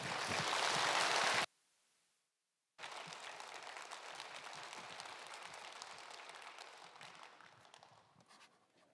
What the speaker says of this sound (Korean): 나오실 때 우리 다 같이 큰 환영과 축복의 박수로 맞이하시겠습니다.